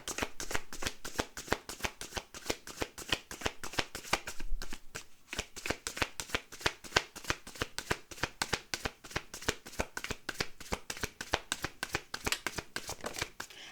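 Playing cards are shuffled and dealt in a fast, steady run of crisp riffling snaps that repeats close by for about fourteen seconds with no talk.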